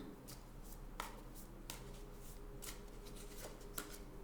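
Tarot cards are drawn from a deck with soft, quick flicks and snaps at irregular intervals, faint and close over a steady low background hum.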